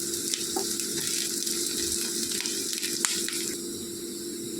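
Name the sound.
curry leaves frying in hot oil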